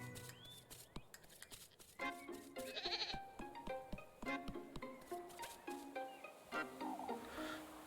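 Goats bleat repeatedly in a video game, with several wavering calls over a soft background of quiet tones and taps, fairly close and moderately loud, no speech.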